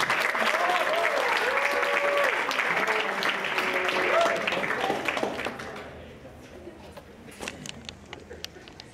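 Audience applause welcoming a speaker to the stage at a Cornell student celebration, a dense, steady clapping that holds for several seconds before thinning into scattered claps and fading out.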